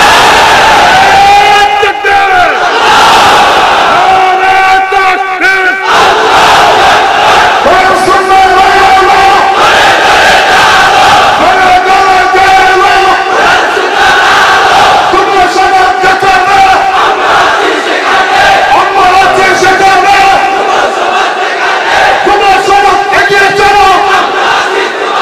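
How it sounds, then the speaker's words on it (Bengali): A large crowd at a Bangla waz religious gathering roars a takbir chant, many voices shouting together in loud, repeated rhythmic bursts that swell and fall continuously. "জিহ্বা খুলে কণ্ঠ আওয়াজ করে একটা তাকবীর দাও"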